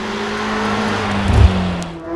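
A Lamborghini Temerario on a race track, its engine screaming at high revs up toward 10,000 RPM in a steady, loud sustained pitch that sweeps slightly as it passes.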